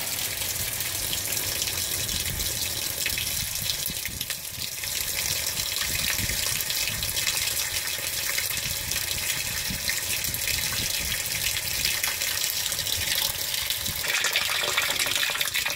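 A 2015 Whirlpool Cabrio washing machine fills on a deep water setting, water gushing steadily and loudly into the drum for the whole stretch with no voices.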